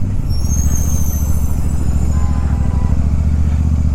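A motorcycle on a ride toward Pawna Dam drones steadily at close range, its engine hum loud and constant under wind rush, with no one talking.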